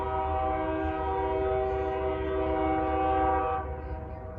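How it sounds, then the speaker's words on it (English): A CSX freight train approaching a railroad crossing blasts a loud sustained chord horn over a low engine rumble, with the horn cutting off near the end as the train noise continues. "There's a train coming"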